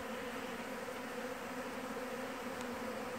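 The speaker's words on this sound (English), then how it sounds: "I just thought I'd show you something that's interesting about honeybees." Honeybees foraging and robbing, giving off a steady, even buzz of many insects close by that holds without a break for a few seconds, with no talking.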